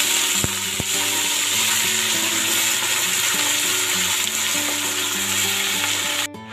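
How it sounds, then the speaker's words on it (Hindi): Hot oil sizzles and crackles steadily as mustard greens fry, a dense, close hiss that holds at constant loudness before cutting off at the end. "ये देखिए मेरा ऑयल यहाँ पे गर्म हो गया। मैं इसके अंदर साग को डालती हूँ।"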